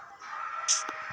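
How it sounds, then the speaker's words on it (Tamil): A Minecraft chicken gives a short, clear in-game cluck, a single brief call over a steady game ambience, with no talking. "கோழி இருக்குது"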